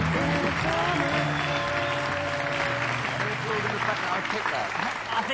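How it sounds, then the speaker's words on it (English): A studio audience at a TV show breaks into sustained, even applause, a thick wash of clapping that holds steady for the whole stretch with music-like tones faintly underneath. "I think it was your choice that they were applauding."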